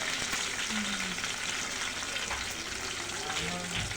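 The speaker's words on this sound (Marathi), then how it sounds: "मिरची लसूण मोहरी फ्राय होत आहे" Chili, garlic and mustard seeds frying in hot oil on a low gas flame, a steady dense sizzle with faint crackles throughout, close and continuous.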